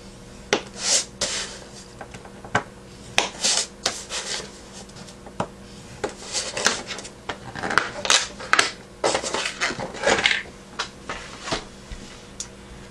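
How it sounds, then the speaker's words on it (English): Scoring a paper box base half an inch in on each side for folding: steady close scraping and rubbing strokes with sharp ticks, repeated unevenly over a constant background hum. "I'm just going to go ahead and score a 1/2 inch on all sides."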